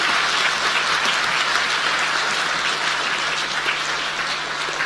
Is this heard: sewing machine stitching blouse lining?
no